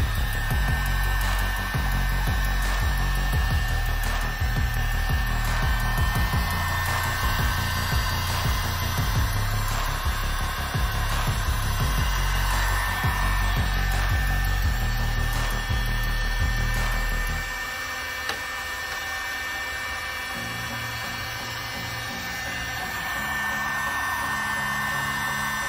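A heat gun heating a heat-shrink hose clamp around a fitting blows a steady, close airy roar with a low motor rumble, and the low end eases off partway through while the hiss continues.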